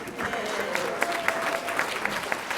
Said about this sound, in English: Give yourselves and this congregation a round of applause.